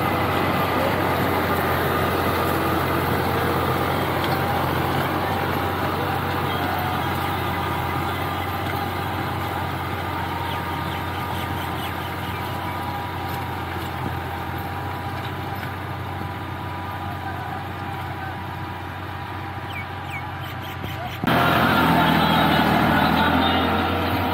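A Dabang tractor engine runs with a rotavator attached in a field in Punjab, Pakistan, giving a steady low rumble and drone. The engine's tone shifts and grows louder near the end.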